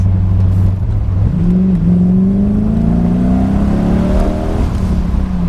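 A TVR sports car engine revs up steadily nearby, its note climbing smoothly over several seconds before easing off, loud and alone with no talk.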